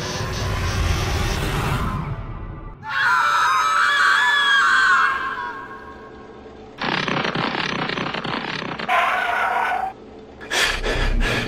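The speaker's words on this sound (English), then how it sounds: "screaming through the hallway." People screaming in a hallway in a Splatoon GMOD animated movie, loud shrill screams in several long bursts separated by brief quieter gaps.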